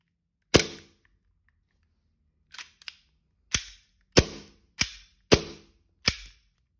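A new, slightly stiff AW HX2002 BB gun being test fired: sharp, loud single shots ring out one at a time, about six of them, with small mechanical clicks in between and no talking.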